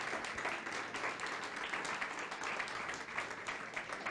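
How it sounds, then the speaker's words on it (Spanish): Congregation applauding in a church service, a dense, even wash of clapping from many hands that holds steady at moderate loudness for several seconds without talk. "Dele ese aplauso al Rey de Gloria."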